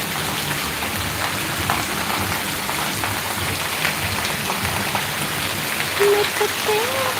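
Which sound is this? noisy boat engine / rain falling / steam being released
rain falling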